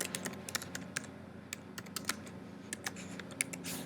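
Close, quiet typing on a computer keyboard, a quick irregular run of light key clicks over a soft background hum.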